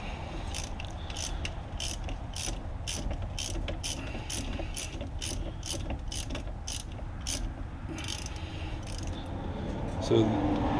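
A hand ratchet loosens a brake caliper bolt on a 2003 Mazda Tribute, giving a steady run of quick, close, evenly spaced clicks with faint low background noise and a brief knock near the end.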